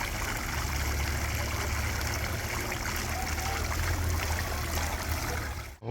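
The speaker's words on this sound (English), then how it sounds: "Oh, fountains running today." Plaza fountains run in a steady, close wash of splashing and trickling water that holds even throughout, then cuts off abruptly at the very end.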